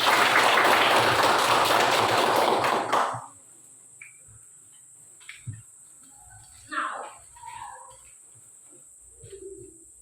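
Classroom applause breaks out loud and close for about three seconds, then stops abruptly, leaving a quiet room with a few faint scattered sounds.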